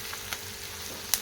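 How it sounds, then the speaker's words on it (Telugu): Bitter gourd and onion pieces frying in a pan toward golden brown, a low steady sizzle with a couple of small clicks and one sharp utensil tap near the end, close by, no talking. "కొద్దిగా గోల్డెన్ బ్రౌన్ కలర్ వచ్చే వరకు వేయిద్దాం కాకరకాయ ముక్కలు, ఆనియన్ ముక్కలు"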